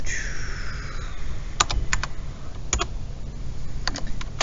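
Computer keyboard typing comes through as a scattered run of sharp, close key clicks after a brief whooshing tone, with no talk.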